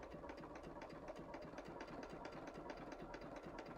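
Sewing machine stitching a rope bowl, its needle running in a fast, even mechanical rattle with a steady low motor hum underneath, continuous and fairly close, no talking.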